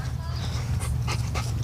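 A dog gripping a slimy toy handle pants rapidly and close by, a steady breathy rhythm running throughout while a person talks over it.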